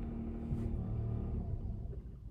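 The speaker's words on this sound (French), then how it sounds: "Vous avez l'impression d'avoir un moteur thermique au ralenti qui se coupe." Mazda MX-30 R-EV range-extender generator engine idling with a low, steady rumble, then winding down and cutting out as the car sits stopped.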